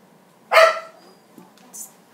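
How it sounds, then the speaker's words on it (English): A small dog lets out a single sharp, high-pitched bark, close by and fairly loud, then a fainter second yip follows against a quiet room. "She has that high-pitched bark, and it just, like, gets on the nerves."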